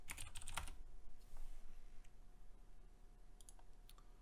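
Quiet computer keyboard typing while entering a CSS search, a quick burst of clicking keystrokes at first, then sparse scattered taps over a low steady background hum, with no speech.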